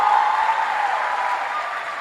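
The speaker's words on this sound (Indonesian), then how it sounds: "Berikan tepuk tangan yang meriah buat Tuhan." A church congregation at a Christmas revival service claps steadily for two seconds, a dense even wash of applause heard from within the hall.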